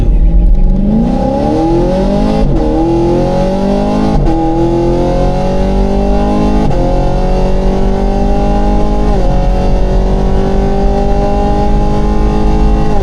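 A Camaro race car roars hard down a drag strip, its engine climbing through several loud rising sweeps with brief dips at each gear change, close and continuous with no talk.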